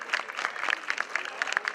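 Applause for a cycling race leader at a Paris-Nice stage ceremony, a brief, fairly faint patter of scattered clapping from a small crowd.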